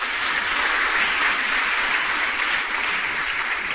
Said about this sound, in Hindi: अगर आपको गौरव लगे तो ताली बजाना